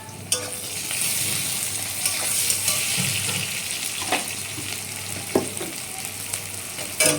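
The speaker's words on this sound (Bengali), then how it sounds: "তো এখন আমি পেঁয়াজগুলো ভেজে নেব।" Onions and tomatoes fry in a pan for a fish curry, a close, constant sizzle broken by scraping stirs and occasional utensil knocks against the pan, with no speech.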